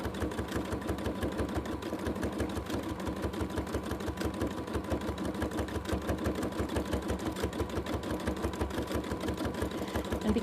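A sewing machine stitches free-motion quilting in a fast, steady, even rhythm of close mechanical clatter that runs unbroken throughout, with no talking.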